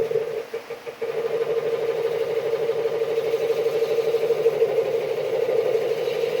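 A wood lathe turning a 200mm camphor laurel piece at 380 rpm spins with a steady, even motor hum that barely changes, after a brief stutter near the start.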